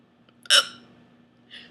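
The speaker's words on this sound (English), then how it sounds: "Oh my god, these hiccups." A single sharp hiccup from a drunken woman, close and fairly quiet, followed a second later by a softer, breathier catch.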